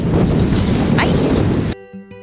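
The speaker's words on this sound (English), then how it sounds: "It's very windy, so Yeah, hopefully you can hear us." Strong wind buffeting the microphone on the Thames Path, a loud rumbling roar that drops away abruptly near the end, leaving faint quieter sounds.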